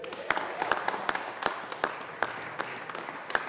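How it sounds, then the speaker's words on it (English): Scattered, sparse hand clapping in the Colorado Senate chamber, a modest round of applause with distinct individual claps at moderate distance, fairly quiet overall. "Let's give them a round of applause."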